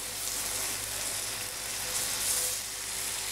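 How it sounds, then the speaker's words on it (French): Peaches caramelising in a hot pan, a continuous close hiss and crackle of sizzling that swells slightly near the end, with no voices. "On commence à caraméliser les pêches."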